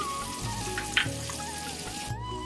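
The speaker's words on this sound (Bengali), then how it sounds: "এই যে এখানে রসুন থেতো করে নিয়েছি শাক ভাজার জন্য" Crushed garlic frying in hot oil for greens, a steady soft sizzle running throughout with a few brief clinks of stirring, no talk.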